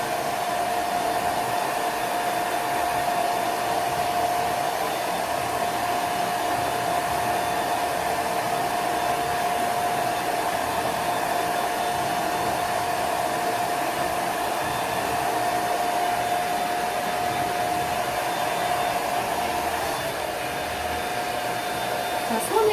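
A hair dryer blows continuously at a steady high pitch, loud and close, with a faint shift as it moves near the end.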